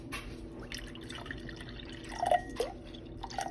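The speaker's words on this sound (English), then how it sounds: "Pour the blue in." Blue raspberry drink poured into a container, a brief soft trickle and drip of liquid against faint background noise, with no talking.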